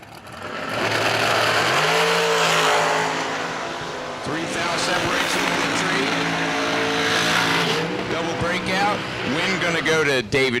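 A 2004 rear engine dragster from Chesapeake City, Maryland, roars down the strip at a drag racing event, a loud, sustained engine blast with rising pitch, heard under a track announcer's commentary.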